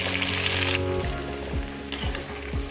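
Onion paste frying in hot oil with bay leaf in a kadai, a loud continuous close sizzle with a burst of hissing at the start and occasional soft stirring knocks.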